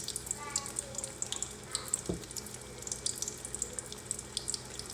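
Egg-coated beef shami kababs fry in a pan over low heat, a close, steady sizzle with fine crackling pops and a brief thud.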